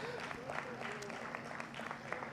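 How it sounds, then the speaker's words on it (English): An audience at an economic growth forum gives sustained applause, a continuous wash of clapping with voices murmuring underneath. "a round of applause"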